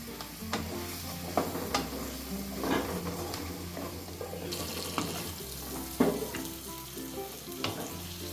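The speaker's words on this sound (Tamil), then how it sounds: "சேர்த்துட்டு இந்த மசாலாவோட நல்லா மிக்ஸ் பண்ணிக்கணும்." Okra is stirred into masala in a pan, a spoon scraping and clattering against the pan in irregular knocks over a soft sizzle, close and without talk.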